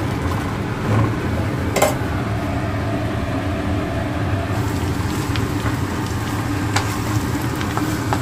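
Bottle gourd sizzles in hot oil in a pan, a steady close-up frying hiss with a few faint clinks, cooked for a fish-head lau ghonto.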